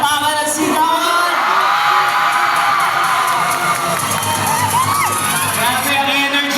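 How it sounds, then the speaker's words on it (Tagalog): Students at Bulacan State University cheer, whoop and shout loudly in a big, sustained crowd roar with applause mixed in, filling the whole stretch without a break. "Pwede bang makarinig ng dumadagundog na palakpakan at sigawan?"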